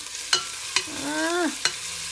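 Onions and meat fry in oil in a pan with a soft steady sizzle, broken by three sharp clacks of a utensil against the pan and a brief squeaky scrape in between.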